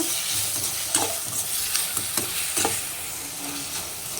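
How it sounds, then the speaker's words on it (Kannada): Chopped tomatoes and onion fry in a pan for a cabbage stir-fry, a steady close sizzle broken by rhythmic spatula scrapes and stirs about every half second. "ಟೊಮೊಟೊನ ಒಂದು 2 ನಿಮಿಷ ಸಾಫ್ಟ್ ಆಗೋವರೆಗೂ ಫ್ರೈ ಮಾಡ್ಕೊಳ್ಳೋಣ"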